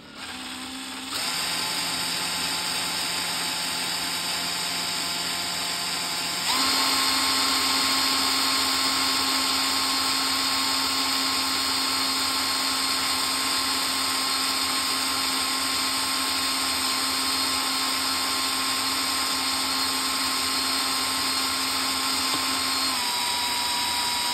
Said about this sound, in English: Drill as far in there as we can.